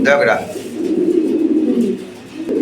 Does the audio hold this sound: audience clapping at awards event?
no